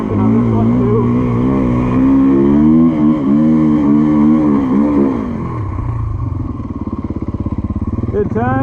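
2024 GasGas EC450F dirt bike engine accelerating uphill off road, a loud, close four-stroke roar with pitch climbing and shifting through gears, then dropping to a lower throbbing pulse.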